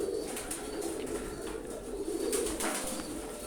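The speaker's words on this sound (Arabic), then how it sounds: "بص على الحمام كده" Pigeons coo steadily at close range, a low murmuring hum with soft bird flutters and faint chirps running throughout, recorded where the birds gather and bathe.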